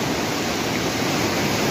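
Rushing river water pours steadily beneath a precarious, locally built bridge in the mountains of Kinnaur, a loud, continuous broadband roar with no pauses and no voices.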